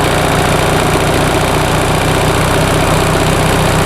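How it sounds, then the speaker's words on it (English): A 1945 Onan generator engine runs steadily, close and loud, a dense continuous mechanical drone with no talk. "I know it's not for lack of engine power, because I can manually open the throttle with my hand"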